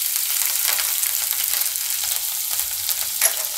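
Green chillies sizzling in hot oil as they go into a pan for a Gujarati dry mung bean dish, a steady, loud crackling hiss throughout with a small pop near the end.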